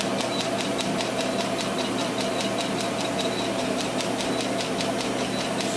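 Cosmetic laser machine running during a carbon laser facial treatment, a constant loud mechanical hum with rapid regular clicking pulses throughout, close and steady, no talking.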